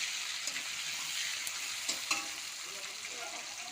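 Potato, tomato and onion fry together in oil, a soft, even sizzling hiss with a few light scrapes of stirring, fairly quiet and steady throughout.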